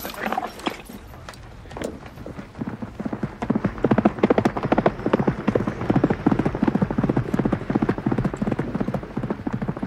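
Horse hooves clip-clopping steadily, a close, continuous rhythmic clatter that builds in loudness after the first few seconds and keeps an even walking pace.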